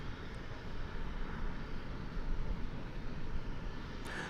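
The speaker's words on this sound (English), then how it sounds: "it utilized pretty much all the runway for that takeoff" A jet airliner takes off at DFW Airport, its engines giving a broad, steady roar heard from a distance, sustained throughout the clip with no voices.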